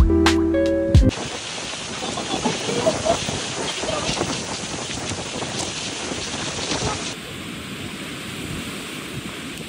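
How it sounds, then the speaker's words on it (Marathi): Strong wind blows at the Kudpan hill area in Maharashtra, a loud, rough rumbling gust battering the microphone after a brief opening noise, continuing steadily and then easing slightly. "इथं जोरात वारा सुटलेला आहे"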